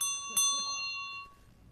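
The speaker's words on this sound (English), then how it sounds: "that's an old school bell" An antique school bell dating to the 1800s gives a bright, ringing strike that lingers and slowly fades, with a second sharper hit partway through and faint room noise beneath.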